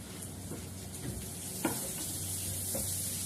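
Onion sizzles steadily in a hot pan while fried noodles are being cooked, a continuous close frying hiss broken by a few faint stirring taps.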